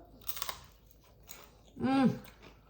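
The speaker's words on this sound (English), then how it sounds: "Listen to the crunch." Someone bites into crispy oil-free chickpea flour onion rings, giving a few sharp close crunches followed by a louder chewing burst with a brief voiced murmur near the end.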